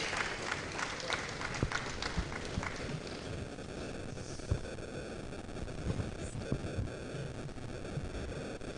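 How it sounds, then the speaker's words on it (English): Audience applause at an admin professionals' conference, a steady wash of many hands clapping at moderate distance, with sharper individual claps standing out and faint crowd murmur underneath throughout. "let's give a round of applause to Mrs."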